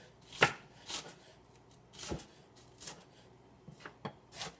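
A knife chops an onion into small bits on a cutting board, about eight sharp, uneven thuds spaced across a few seconds, close and clear with no speech.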